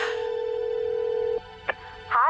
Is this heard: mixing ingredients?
no